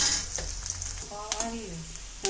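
Garlic and ginger frying in oil for an egg gravy, a soft close sizzle with small pops and brief utensil clinks, quieter toward the end.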